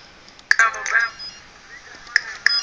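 A mobile phone rings in a household in short bright chirping tones, one burst near the start and two more toward the end, with a faint voice in between.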